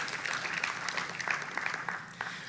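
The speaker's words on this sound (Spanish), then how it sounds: "Un fuerte aplauso" Brief, fairly faint applause from a church congregation after a prayer, a patter of clapping that stays even throughout.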